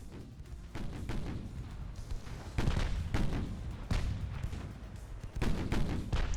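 Heavy naval gunfire in Ultimate Admiral Dreadnoughts, warship batteries of 9-inch and 6-inch guns booming in repeated loud, rumbling salvos at irregular intervals over a continuous low battle roar.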